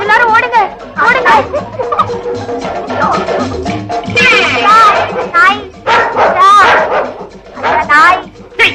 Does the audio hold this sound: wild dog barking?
yes